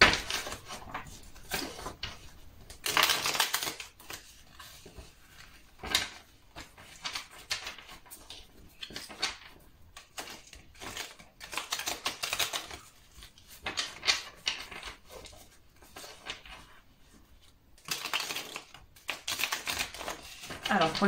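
Oracle cards are handled and shuffled in quick bursts of crisp flicking and tapping, close and fairly quiet, with pauses between the flurries.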